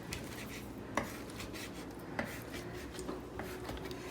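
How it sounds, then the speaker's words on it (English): A knife chopping through cooked lentils on a board for spaghetti sauce, a few soft scattered cuts with occasional sharper taps over a steady kitchen hiss, no talking. "once again, grasp your knife and you cut."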